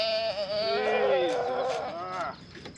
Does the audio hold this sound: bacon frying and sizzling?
no